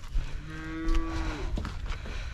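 Cow at a farm gate giving one long, drawn-out low moo, close and loud against faint outdoor rural background noise.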